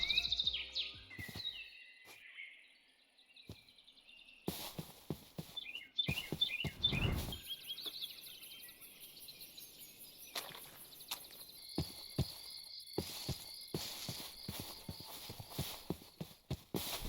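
Forest ambience from a Minecraft VR mod carries twittering bird calls and hoof-like clip-clopping footsteps. Faint, scattered game sounds sit over quiet gaps, with a brief burst of noise partway through and no speech.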